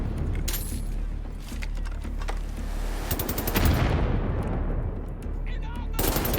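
A weapon firing short bursts in Wolfenstein: The New Order, several sharp clusters of rapid shots separated by pauses, with a rising metallic whine and a ringing tail between bursts, loud and close.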